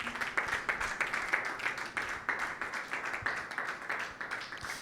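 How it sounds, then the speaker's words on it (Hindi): A church congregation at a Sunday meeting claps loudly and steadily for Jesus Christ, a dense, fairly even rhythm of many hands throughout, with no talking over it. "यीशु मसीह के लिए जोरदार तालियां बजाएं"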